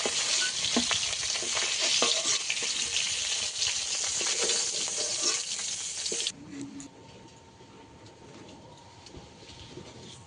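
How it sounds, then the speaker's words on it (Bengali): Pond-caught kalbos and rohu fish frying in oil in a wok give a loud, dense sizzle that fills the first six seconds, then drops suddenly to a much quieter crackle. "একইভাবে এই মাছগুলো সব ভেজে নেব"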